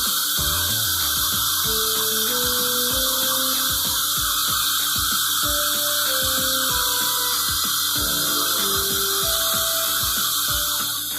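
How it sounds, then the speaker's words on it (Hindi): A DeWalt 801 angle grinder runs continuously at steady speed, a loud, dense, unbroken whine and roar that holds the same level throughout with no talking. "4-5 मिनट आप ग्राइंडर को चालू रखिए"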